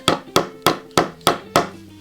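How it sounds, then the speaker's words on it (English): The butt of a CountyComm R4A compact knife used as a hammer on a screw: six evenly spaced, sharp metallic knocks, close and clear, with no talk. "the butt of this actually works really well as a hammer too"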